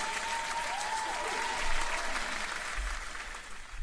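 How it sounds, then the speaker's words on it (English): Audience applause after a guest's remarks, a dense steady wash of many hands clapping that holds for a few seconds, moderately loud, with a faint voice or tone briefly audible underneath. "I'm finna sit here and give you another round of applause"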